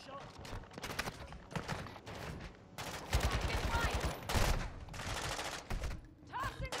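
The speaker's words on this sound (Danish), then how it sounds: "Jeg bliver bare skudt på hele tiden" Bursts of gunfire and fusillades from the video game Call of Duty: Modern Warfare II, loud and dense, with overlapping shots and a player talking over the combat.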